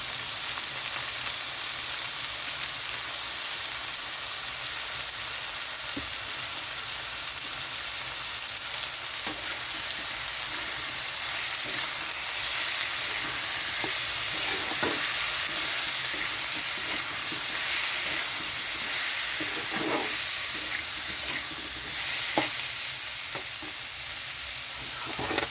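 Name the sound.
ground spices and Kashmiri chili powder frying in pan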